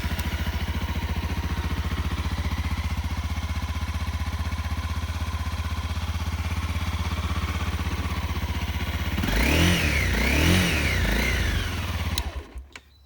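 A Honda CRF250L dirt bike engine idles steadily and fairly quietly, then revs up in a few rising bursts before cutting off near the end.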